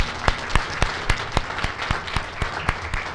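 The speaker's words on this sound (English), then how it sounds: "So a round of applause also for Rich." A township board workshop audience applauds a police officer with steady, moderately loud clapping, individual sharp claps standing out over a continuous patter of hands.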